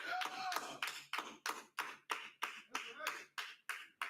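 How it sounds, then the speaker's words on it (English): A small congregation at an Israelite School of Universal and Practical Knowledge class in Houston claps in a slow, steady rhythm of about eleven sharp, even beats, close and fairly loud, with no speech over it. "All right, clap it up."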